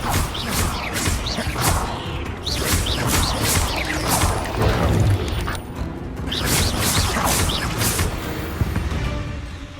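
Spellcasting in Hogwarts Legacy combat, a dense loud mix of magical whooshes, crackling impacts and crashing bursts layered over a continuous game soundtrack, with no clear pause between effects.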